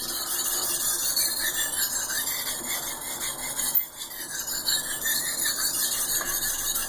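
A blade is drawn over a sharpening stone in steady, close strokes, a continuous gritty rasp with a faint high squeal running throughout and one brief pause near the middle.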